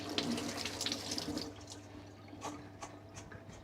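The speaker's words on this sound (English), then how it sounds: "let's give our mint a rinse" Fresh mint rinsed under a running kitchen tap, a steady close hiss of water for the first stretch, then softer splashing with a few separate drips and taps as the flow eases.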